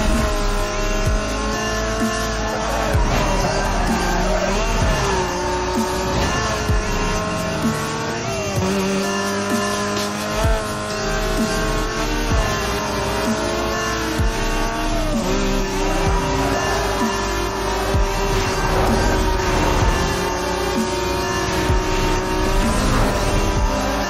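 Racing car engines from Need for Speed Most Wanted roar and rise and fall in pitch, loud and continuous throughout, with tire squeals and passing cars mixed into a dense game soundscape.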